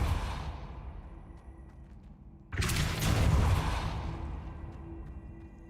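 A Depulso spell is cast in Hogwarts Legacy. A sudden loud whooshing burst cuts in over a low game rumble, then swells and slowly fades over a few seconds, with no talk.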